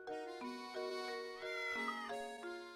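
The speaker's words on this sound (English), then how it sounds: "Meow." Cat meowing in Professor Layton and the Curious Village, a series of clear, close, rising and falling meows in quick succession.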